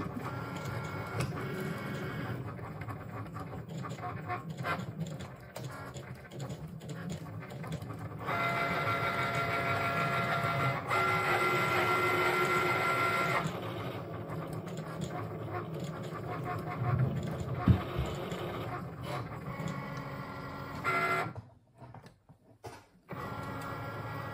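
A Cricut Maker cutting machine runs with a debossing tip and white rollers fitted. It makes a steady, close mechanical whir and hum whose motor tone shifts between passes, then stops abruptly near the end.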